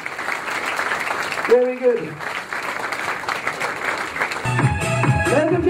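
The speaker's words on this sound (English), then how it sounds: "Big round of applause, thank you." Wedding guests applaud in a steady wash of clapping that runs throughout, with a voice speaking briefly over it and music starting near the end.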